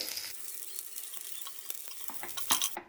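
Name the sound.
garlic and curry leaves sizzling in hot oil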